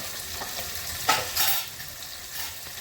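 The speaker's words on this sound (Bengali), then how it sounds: "মাছগুলো ভাজা হয়ে গেছে, এবার আমি মশলাগুলো দিয়ে দিচ্ছি। হলুদ দিয়ে দিলাম," Fried fish pieces in a pan as turmeric and spices go in, giving a steady hiss of frying with a sharper burst of sizzle and stirring scrapes around the middle, then settling back.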